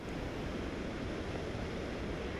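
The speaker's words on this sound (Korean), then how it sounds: "지금 제 뒤로는 파도가 밀려오면서 방파제를 끊임없이 강타하고 있습니다." Typhoon-driven waves pound a harbour breakwater at a small port in Seogwipo, Jeju, with strong wind, a steady dense roar of surf and gusting wind noise filling the whole stretch with no talk.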